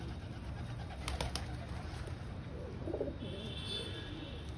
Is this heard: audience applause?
no